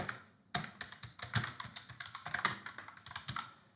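Rapid keystrokes on a computer keyboard while a password is entered during a Kali Linux setup, a steady run of close, crisp taps starting after a brief pause, with no talking.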